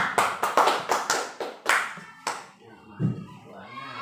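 A small group applauds after a presentation at a school meeting: a brief burst of clapping close by that thins out within a couple of seconds, with some speech at the end.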